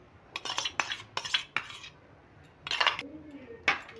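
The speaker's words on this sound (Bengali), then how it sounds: "এবার প্রথমে আমি চামচে করে এটাকে ভালো করে মাখিয়ে নিচ্ছি।" A spoon mixes beaten duck egg poured over bread in a bowl, scraping and clinking against the bowl in short irregular bursts with pauses between, close and moderately loud.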